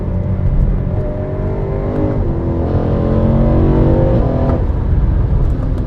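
A BMW E92 M3 fitted with an Eventuri carbon plenum and a Stage 2 upgrade with primary cats deleted drops a gear, its engine note swooping in pitch as the revs climb and fall, loud and close.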